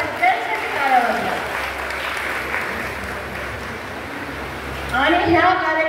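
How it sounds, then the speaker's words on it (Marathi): An audience applauds at a public felicitation ceremony; steady clapping sustains throughout, swelling louder near the end, with voices speaking over it at the start and finish. "सर्वांनी टाळ्या वाजून परत एकदा सगळ्यांसाठी टाळ्या वाजवा"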